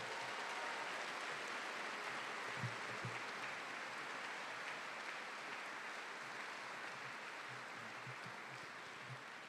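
Audience at an engineering graduate recognition ceremony applauding, a dense, steady wash of clapping from many hands that continues throughout at an even level.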